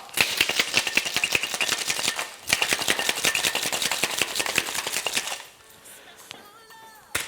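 A caipirinha with cachaça and ice rattles hard in a cocktail shaker, a fast steady clatter of ice for about five seconds before it stops and the rest trails off quietly.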